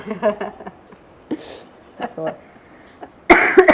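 Several short, breathy coughs near the mic, spread through quiet moments, ending in a louder burst of coughing or throat-clearing.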